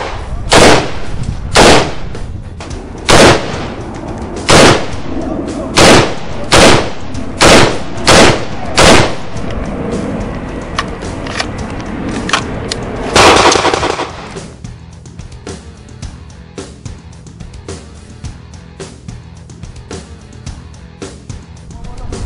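A ZAHAL Gilboa assault rifle fires a string of loud, sharp single shots at a steady pace outdoors, then a short rapid burst, followed by fainter distant shots and clatter.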